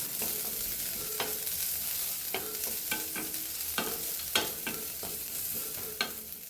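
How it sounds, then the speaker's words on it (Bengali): Chopped onion frying with nigella seeds and green chili in a pan, a steady sizzle running throughout with intermittent scraping stirs of a spatula, close and moderately quiet, no voices. "এবারে এর মধ্যে পেঁয়াজ কুচিয়ে দিয়ে দিচ্ছি দিয়ে ভালো করে ভেজে নিচ্ছি পেঁয়াজটাকে"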